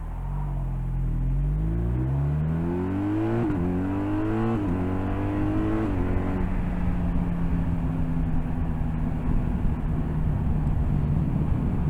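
A 2022 BMW R1250 RT motorcycle on a dual carriageway, its engine humming steadily with rising and shifting pitch through gear changes, then settling into a constant cruise under continuous wind rush.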